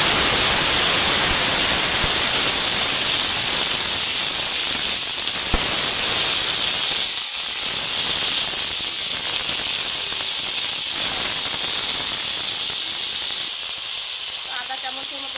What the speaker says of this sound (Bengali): কড়াইতে তেল দিয়ে দিয়েছিলাম, সরষের তেলে ভাজি করব।